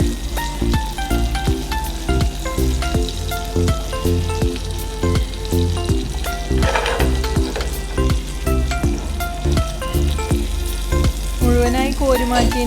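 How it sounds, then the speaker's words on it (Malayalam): Prawns sizzle and fry steadily in hot oil in a pan, a loud, continuous crackle dotted with sharp spitting pops, with no voices over it. "പ്രോൺസ് നന്നായി ഫ്രൈ ആയിട്ടുണ്ട്."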